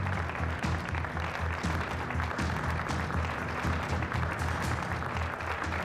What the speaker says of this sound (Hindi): अली कोजान के लिए तालियां।